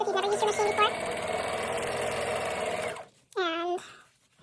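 A home sewing machine running a straight stitch hums in a fast, steady whir for about three seconds and then stops, followed by a short spoken voice.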